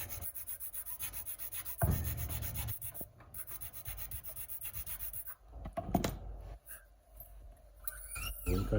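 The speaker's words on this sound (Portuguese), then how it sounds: "Olha, estou vendo a altura, vou passando a lima." A file rasps back and forth in the nut slot of a guitar during string height adjustment, with close, repeated rubbing strokes in an uneven rhythm and brief pauses between passes.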